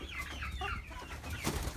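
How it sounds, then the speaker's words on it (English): Chickens in a farm pen behind chicken wire cluck and chatter softly in short bursts, a few birds calling over a faint background hum. "So now we'll go over here to these chickens."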